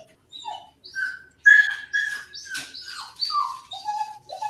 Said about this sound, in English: Oh, I hear Jamica's puppy dogs